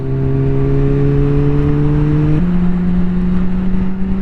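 A Yamaha MT-09 motorcycle being ridden, its engine holding a steady droning hum that shifts to a lower pitch midway, close and fairly loud with no talking.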